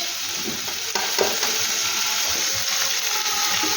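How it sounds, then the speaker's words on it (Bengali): Rice with vegetables, chopped egg and onion is stirred in hot oil and ghee, a continuous sizzle under repeated scraping and tossing strokes of a spatula in the pan, close and even, without speech. "দিয়ে আমি এগুলোকে ভালো করে নাড়াচাড়া করিয়ে এর সাথে মিশিয়ে নেব"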